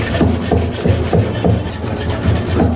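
A raw potato dipped in salt is rubbed back and forth over a rusty surface, giving a quick, regular series of scraping strokes, close and fairly loud, with no talk.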